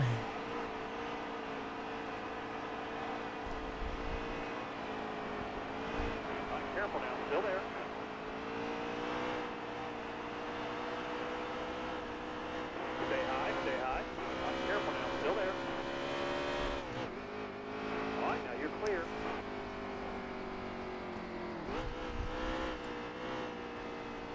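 Race cars circle under caution in a video game of an Xfinity Series race at Auto Club, giving a steady, continuous engine drone with slight pitch shifts, with commentators talking over it throughout.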